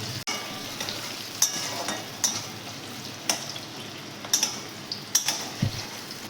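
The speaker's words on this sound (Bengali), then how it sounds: "রসুনগুলো আমার হালকা ভাজা হয়েছে, এবারে আমি পেঁয়াজ কুচিগুলো দিয়ে দিচ্ছি।" Chopped onions fry in oil with lightly browned garlic for bhat bhaja, giving a soft steady sizzle broken by regular scraping stirs and a few sharper clinks.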